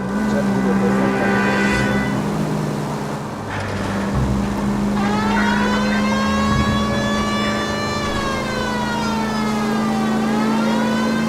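Car driving in the video game L.A. Noire, with a steady engine drone and a rising and falling siren wail joining partway through, continuous and fairly loud throughout.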